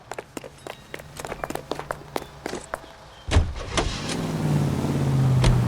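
In the L.A. Noire video game, quick footsteps approach a car, then a door thuds shut and the engine starts and rumbles louder as the car begins to pull away.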